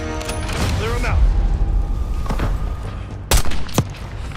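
Gunfire and heavy booms from a firefight against snipers on an overpass and mortar teams in Call of Duty: Black Ops 6, with dense battle noise, sharp shots near the end, and voices calling out throughout.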